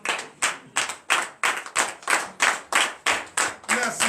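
A congregation at a morning prayer service claps in a steady, even rhythm of about three beats a second, loud and close, with no talk over it.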